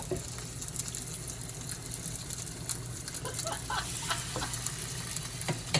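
Korean cabbage pancake (baechu-jeon) sizzles steadily in a hot pan, a dense crackling hiss with small pops, close and fairly even throughout.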